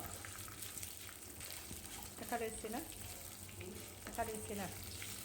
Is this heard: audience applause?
no